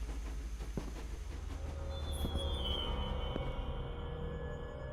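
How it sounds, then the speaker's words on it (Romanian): Toy train in the Evil Inside horror game running on its own, a steady rumbling rattle with a thin metallic squeal rising midway, close and continuous with no talking. "Trenul de jucărie merge singur."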